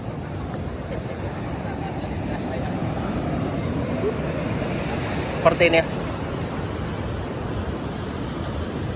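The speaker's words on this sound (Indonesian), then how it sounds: "suasana Pantai Ciwidey" Wind and surf at a quiet Ciwidey beach in the morning make a steady, even broadband roar throughout. A voice speaks one short phrase partway through.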